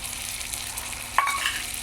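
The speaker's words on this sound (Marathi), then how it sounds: "परता छान परतून घ्या टोमॅटो कांदा छान परतलेला आहे" Chopped tomato and onion sauté in a pan with a continuous bright sizzle and a brief spatula scrape near the end, close and steady without speech.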